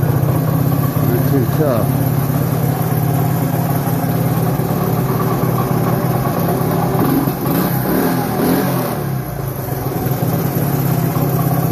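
A small Honda ATC US90 three-wheeler engine runs steadily at close range, a continuous mid-pitched idle with slight throttle changes, while someone talks over it.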